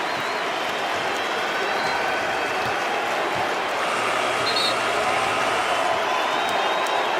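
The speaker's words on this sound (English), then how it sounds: "look at the emotion, the response of this home crowd" Home crowd at an NBA arena roaring and applauding continuously in tribute to Kobe Bryant during a 24-second shot clock violation, a dense, steady wall of cheering and clapping.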